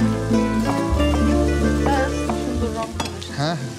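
Tomatoes stir-fried in a hot pan with steady, loud sizzling and scraping stirring throughout, close up, with a faint low hum beneath.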